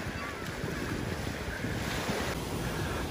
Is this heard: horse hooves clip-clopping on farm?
no